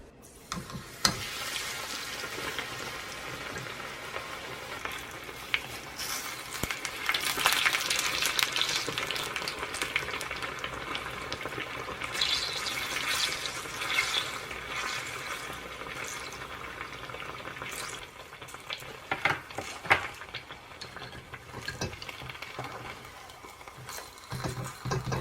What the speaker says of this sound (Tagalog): Fry also the remaining.